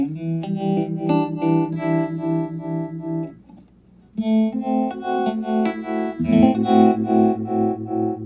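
An electric guitar plays sustained chords through a slow, throbbing univibe-style tremolo from a Catalinbread Tremolo 8 pedal that makes the tone swell and pulse around the mid frequencies. A short quiet gap falls midway before the chords resume.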